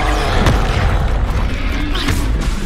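Confringo explosive spell cast in Hogwarts Legacy, booming blasts with low rumbling bursts over dense game sound, loud and continuous.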